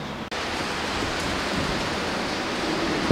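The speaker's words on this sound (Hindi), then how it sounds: "आंधी तूफान के साथ हो रही है, हाँ बारिश हो रही है मस्त तरीके से" Heavy rain pours during a windy storm outside a high-rise building, a dense, steady hiss of falling water filling the scene, loud and continuous with no talk.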